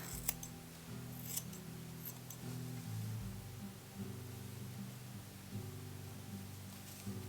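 Scissors snipping the ends of naturally wavy hair during a home haircut, a few sharp faint cuts over a low steady background hum, no speech.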